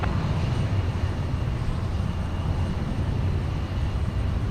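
Boeing 757 jet airliner at a busy airport, a steady loud broadband roar with heavy low-frequency rumble holding constant throughout, no voices.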